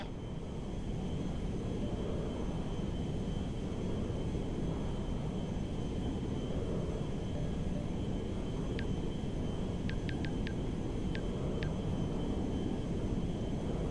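Jet aircraft landing at Mackenzie Field airfield in GTA Online, a constant loud roaring engine wash with a few faint short chirps near the end.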